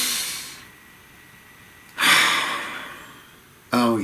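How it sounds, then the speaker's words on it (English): Someone takes a long, deep, airy breath close to the mic, a drawn-out rush of air followed by a second sharp intake just as a voice starts. "Have a nice deep breath"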